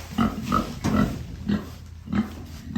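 A pig grunts repeatedly in short, nasal bursts at an uneven pace, fairly close, with no talking.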